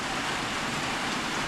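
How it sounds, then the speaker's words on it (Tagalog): Light, steady rain of the long-lasting kind hisses continuously and evenly, with no talking. "Ang ulan dito ngayon mga idol, inday-inday kung tawagin ba."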